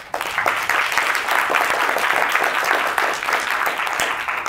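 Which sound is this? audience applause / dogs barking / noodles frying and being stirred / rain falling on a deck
audience applause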